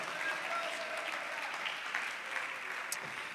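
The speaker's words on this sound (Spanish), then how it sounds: "Damos un aplauso a nuestro amado Cristo en esta hermosa noche." A church congregation claps steadily for a few seconds during a night worship service, a dense, even applause with a brief voice mixed in.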